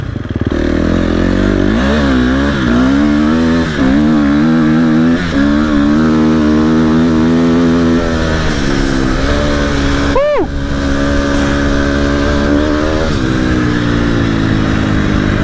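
A KTM SXF 250 motocross motorcycle engine revs loud and close on sand, its note rising and falling in repeated surges, with one sharp quick blip and climb near the end.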